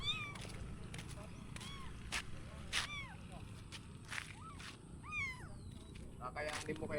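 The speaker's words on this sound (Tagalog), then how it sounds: "Namulot tayo ng pusa." A small stray kitten meows again and again in short, rising-and-falling cries, loud and close, over a steady low rumble of background noise.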